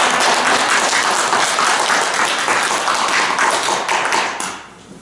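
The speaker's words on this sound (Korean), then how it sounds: "다 같이 박수로 모시겠습니다" An audience applauds to welcome a lecturer at an invited Cheondogyo talk, a dense, steady wash of clapping that fades out near the end.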